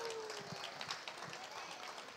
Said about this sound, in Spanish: También para ellas un fuerte aplauso, por favor,